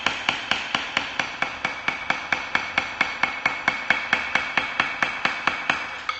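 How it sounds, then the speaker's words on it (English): Drumstick strokes played with soft, relaxed hands tap out a steady, even stream of about twenty-five sharp clicks, each ringing briefly with resonance, close and clear with no other sound. "the stick itself resonates because it's soft hands"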